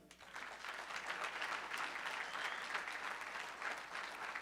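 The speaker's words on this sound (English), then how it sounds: "clap up for that" At an African American male summit, an audience claps steadily for an elder member of the executive board being brought up, with quiet but continuous applause swelling slightly after the opening moments.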